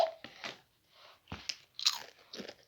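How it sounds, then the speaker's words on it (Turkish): Crunchy food is bitten and chewed up close, giving a handful of sharp, quiet crunches separated by short pauses. "Yiyorum arkadaşlar."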